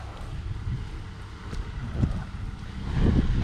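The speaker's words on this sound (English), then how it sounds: "That wind just keeps swirling around." Gusty wind buffets the microphone outdoors at a brush pile burn being cleared with a Cat 313 excavator, a steady low rumbling roar with stronger swirling gusts near the end and no voices.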